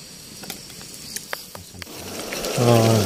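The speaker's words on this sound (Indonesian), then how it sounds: "Oke, kita mau goreng asam ya." Food sizzles in a pan over a campfire at an overnight forest fishing camp, a faint hiss with scattered clicks and knocks that swells into louder steady frying near the end.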